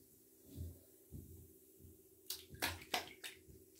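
Fingers swishing a natural bath bomb through water in a filled bathtub, with soft low sloshes followed by a few brief, sharper splashes near the end, close and fairly quiet.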